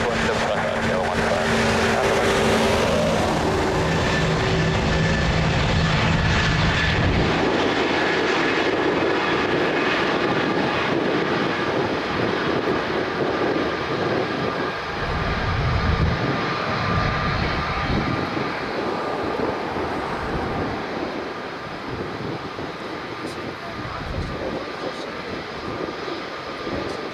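A passenger airplane takes off from runway 02 at Lisbon Airport, its engines roaring loudly and steadily for the whole stretch as the sound slowly fades. Radio voices talk over the engine noise.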